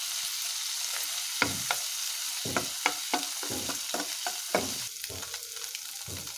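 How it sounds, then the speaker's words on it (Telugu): Green chillies and garlic cloves fry in a pan for a spinach fry, a steady close sizzle with repeated sharp scraping stirs of a spatula throughout. "వెల్లుల్లి రెబ్బలు వేసుకొని ఫ్రై చేసుకోవాలి."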